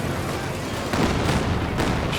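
An artillery barrage in the game Company of Heroes 2 lands as a few muffled booms over dense, continuous battle noise.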